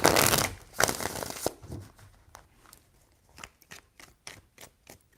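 Brisk riffling and snapping of a card deck being shuffled, a loud burst at first, then lighter scattered flicks and taps.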